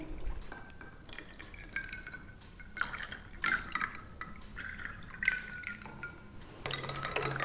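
Cold water is poured into a glass of khus syrup with ice cubes, giving close trickling and splashing with light clinks of ice against glass across several seconds.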